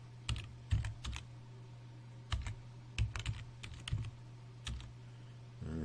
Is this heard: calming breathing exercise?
no